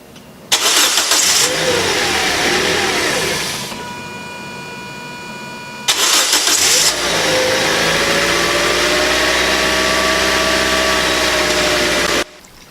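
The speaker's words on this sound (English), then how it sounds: "now it's time to just make sure the car will start" A 2012 Toyota Corolla that just got a new battery cranks and fires up. Two loud starter bursts each spin into a steady idle that runs on until the engine shuts off abruptly, with no talking.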